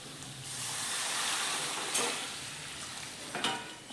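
Ground spinach paste hits a hot tempering in a pan, giving a sharp sizzle that settles into a steady frying hiss, with a few spoon scrapes as it is stirred.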